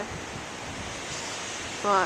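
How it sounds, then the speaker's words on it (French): Strong wind and big ocean waves on a cold, cloudy shore make a steady, rushing roar of surf and gusts throughout, with a brief voice near the end. "Le vent il est fort, là, si vous voyez, là, les vagues sont vraiment grosses."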